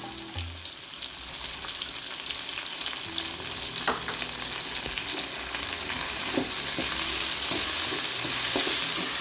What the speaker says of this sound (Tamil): 200 கிராம் வெங்காயம் நல்லா வதங்கிட்டு இதோட இஞ்சி பூண்டு சேர்த்துக்கலாம்.